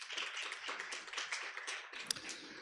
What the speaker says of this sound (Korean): 다시 한번 오늘 발표해 주신 최재문 대표님께 큰 박수 부탁드리겠습니다.